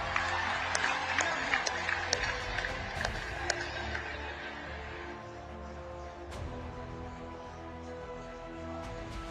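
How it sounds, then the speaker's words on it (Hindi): A crowd applauds at a political rally held by Prime Minister Modi in Assam, with dense clapping loudest in the first seconds before thinning out under a steady amplified tone and voice. "हो जाए ताली आज आपके नाम पर"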